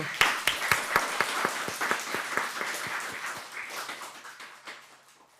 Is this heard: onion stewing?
no